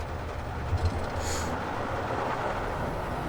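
Two video-game roller coaster trains duelling side by side, giving a steady, low rolling rumble with a brief whoosh near the start and no voices.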